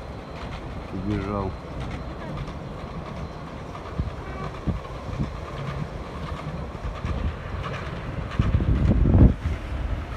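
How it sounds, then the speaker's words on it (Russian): A tram rolls past on a snowy winter street near VDNKh in Moscow, a rumbling rail wash with clattering wheels and wind noise that swells louder toward the end, with someone speaking briefly over it. "О, трамвайчик какой."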